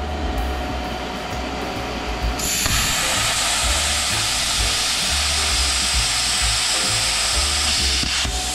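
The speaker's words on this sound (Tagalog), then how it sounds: "Isa kasi maganda sa plasma cutter, kung maganda rin yung compressor natin, malakas yung kanyang buga." A plasma cutter set around 20 amps cuts metal, fed by a Predator oil-free compressor, and the air blast jumps to a loud, sustained hiss partway through, under an ongoing mechanical rattle.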